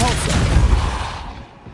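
Depulso, a force-blast spell in a Harry Potter video game, lands as a sharp burst with a heavy low thump followed by a quick decaying rumble, loud at first and trailing off within two seconds.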